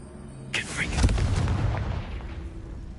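A Confringo fire spell explodes in the video game Hogwarts Legacy: one sudden burst with a crackling, fiery crack, then a heavy rolling rumble that fades over about two seconds.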